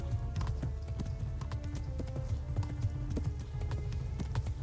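Horse hooves clip-clop at a steady, brisk pace in the medieval video game Kingdom Come: Deliverance, with a continuous low rumble of ambient game sound beneath.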